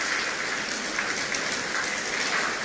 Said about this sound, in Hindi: बहुत तेज आंधी चल रही है और बारिश भी हो रही है